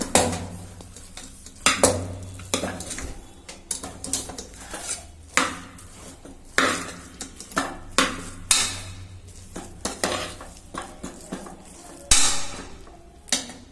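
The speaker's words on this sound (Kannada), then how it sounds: "ಈಗ ನಾನು ಮಿಕ್ಸ್ ಮಾಡ್ಕೊಳ್ತಾ ಇದ್ದೀನಿ ರೈಸ್." Vegetable pulao rice being stirred in an opened pressure cooker, a utensil scraping and clanking against the metal pot in a steady series of sharp, close knocks and scrapes with no talking.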